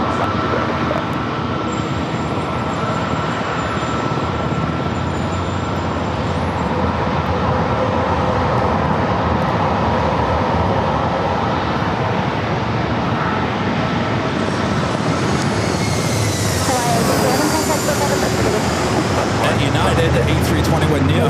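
United Airbus A321neo jet airliner heading to Denver at San Diego airport: loud, continuous engine roar that swells and rises in pitch toward the end, with a voice talking over it.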